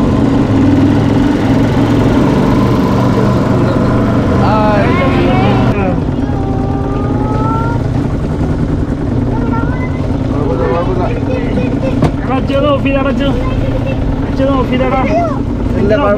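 A homemade fiber boat with an outboard-style motor running at speed on an open river, a loud steady engine drone throughout, with people talking over it.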